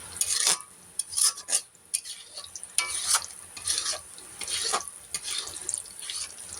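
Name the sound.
chilies and onions frying, stirred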